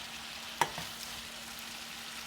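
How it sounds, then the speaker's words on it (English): Steady sizzling and hiss of pasta cooking liquid reducing in a hot pan, with a brief clink of a utensil near the start. "So you hear that sizzle? That sizzle now, right now, is reducing the liquid in there."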